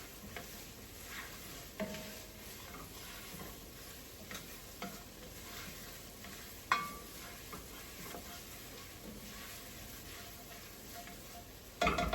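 Tomato paste and vegetables being stirred in a pot for Aegean fasolada bean soup, with soft scraping and a faint low sizzle, punctuated by occasional light clinks of the spoon against the pot, close and quiet.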